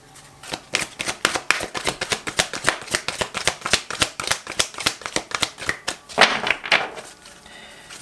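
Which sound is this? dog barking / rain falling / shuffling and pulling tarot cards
shuffling and pulling tarot cards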